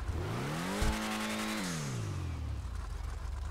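Engine of the Hotring Everon race car in GTA Online, revving up to a loud, near whine and then falling away as the pitch drops, with turbo whoosh and whistle layered through the rise and release.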